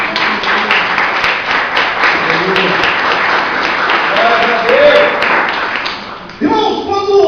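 A church congregation claps together, a loud dense wash of rhythmic applause filling the hall, with a voice rising over it near the end.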